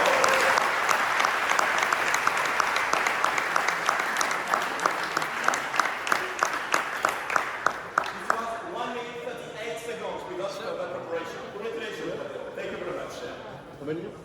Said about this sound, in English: this big applause for Matéo